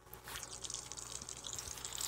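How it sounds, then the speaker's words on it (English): Shower water runs in the Last Day on Earth: Survival video game, a faint, steady hissing spray with small splashing flutters throughout a short stretch. "I'm gonna take a shower."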